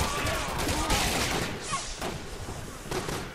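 Sustained gunfire in Resident Evil 6, a loud, dense wash of overlapping shots and booms with a few sharper bursts standing out over continuous battle noise.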